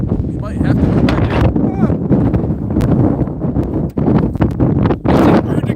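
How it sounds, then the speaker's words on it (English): Outdoor wind buffets the microphone in continuous low rumbling gusts, with sharp crackling pops throughout and a few brief dips in loudness. "Oh, that wind."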